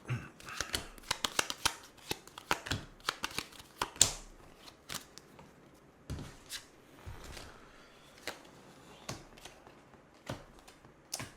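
Tarot cards being shuffled close up, with crisp riffling bursts and taps in an uneven rhythm, each burst separated by short pauses, and no talk over them.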